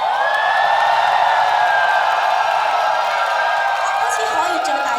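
Large concert-arena crowd screaming and cheering in a sustained, steady roar, shrill whoops riding on top and scattered clapping buried underneath, loud and continuous throughout.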